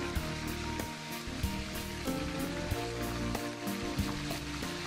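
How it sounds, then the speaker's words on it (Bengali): Fish frying in oil, a soft continuous sizzle with light bubbling and crackle throughout, fairly faint and steady. "আমাদের মাছ ভাজা হয়ে গেছে"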